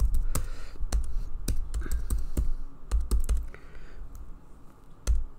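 Keys clatter on a computer keyboard while code is typed, a run of sharp, close clicks in irregular bursts with short pauses, heard alone without talk.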